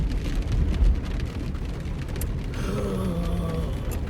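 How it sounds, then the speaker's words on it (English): Steady rain hisses across the whole clip with low rumbling beneath, and a faint tonal hum rises near the end. "Do not like all this damn rain."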